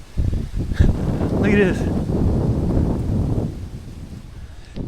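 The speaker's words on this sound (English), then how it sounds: "All of a sudden, I build a fire, wind goes crazy." Strong gusty wind outdoors beside a campfire buffets the microphone with a loud, low rumble throughout, while someone speaks briefly over it.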